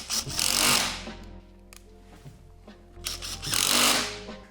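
Hyfax slider screws on a 2023 Ski-Doo Gen 5 snowmobile driven tight with a power tool, two loud whirring bursts separated by quieter clicks and handling noise, up close.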